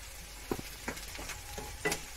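Onions and dry fish sautéing in sesame oil, with faint, scattered stirring scrapes and soft taps in a quiet kitchen, with no strong sizzle.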